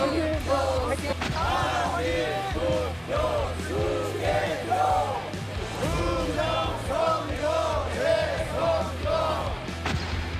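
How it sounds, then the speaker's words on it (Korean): Rally crowd chanting and cheering in heavy rain at Seoul Olympic Park, rhythmic massed voices shouting in repeated bursts over a steady low drone. "비가 와도 올공의 함성은 멈추지 않는다"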